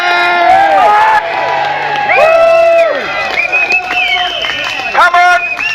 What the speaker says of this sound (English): So come and give us a cheer.